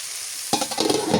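Vegetables and potatoes hit hot oil in a pan for a dry village-style fry: a sudden loud sizzle bursts in after a quiet moment and keeps crackling up close.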